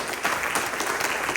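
Congregation at a church conference giving a brief burst of applause, a dense continuous patter of many hands clapping throughout.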